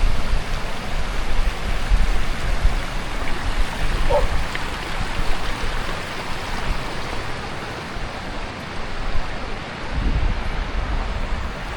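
Broad, steady rushing wash of ocean surf on an Oregon coast beach, continuous and fairly loud with gentle swells in intensity, a soft roar filling the whole stretch without distinct breaks.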